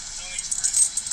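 A bunch of keys or handcuffs jingles briefly during a police arrest, a quick bright metallic rattle lasting about a second with voices in the background.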